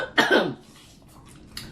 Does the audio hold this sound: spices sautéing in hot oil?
no